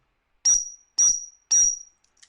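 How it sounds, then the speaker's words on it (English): A dog recall whistle gives three short, sharp, evenly spaced pips, loud and close, with a faint rustle after. "You can then pip your whistle, maybe 3 times now"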